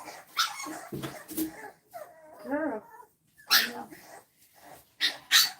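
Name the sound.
French Bulldog puppies barking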